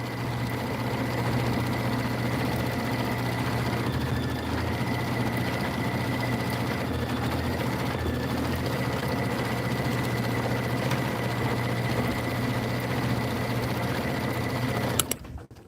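A sewing machine running a quilting stitch: a steady, close, continuous mechanical whir and rapid needle chatter that holds without pause for about fifteen seconds.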